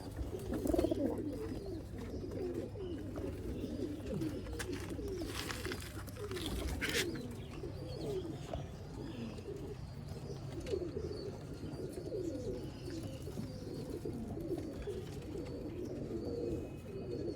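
Rare bloodline pigeons coo continuously on a rooftop loft in Sialkot, a soft low rolling chorus of many birds that stays steady throughout, with faint background noise.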